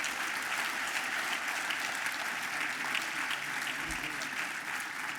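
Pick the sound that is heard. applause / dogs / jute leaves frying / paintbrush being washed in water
applause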